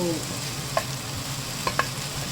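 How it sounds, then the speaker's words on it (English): Tempering for a smoked green tomato gotzu sizzling in a pan, a steady close hiss with a few sharp clicks from a quick stir. "there, one quick stir"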